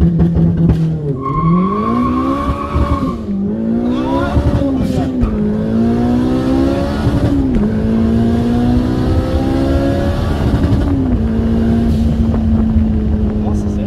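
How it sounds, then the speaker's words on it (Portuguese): A turbocharged Honda Civic Si making 380 hp roars as it accelerates, loud and close, with the engine note repeatedly climbing through the gears and dropping back between pulls. "O ronco desse carro"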